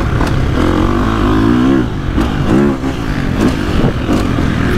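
A 2025 KTM 350XCF dirt bike engine revs on a motocross track, loud and close, its pitch rising and falling repeatedly as the rider throttles up and backs off.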